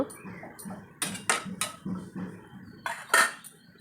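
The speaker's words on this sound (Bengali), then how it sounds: "এটাকে সবগুলো নাড়াচাড়া করে ঢাকনা দিয়ে ঢেকে দিয়ে" Potatoes are stirred in a cooking pot and a lid is set on top: a run of close metallic scrapes and knocks, with a few sharper clanks of the lid near the end.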